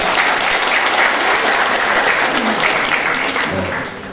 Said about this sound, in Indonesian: Kita kasih aplaus ini untuk Anda semua.